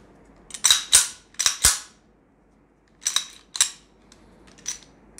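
A pistol slide is racked in two quick sharp metallic clacks, then racked again a moment later, followed by a faint click, close and clear with no talk, during a chamber check on a Bersa or Glock pistol fitted with a Roni conversion kit.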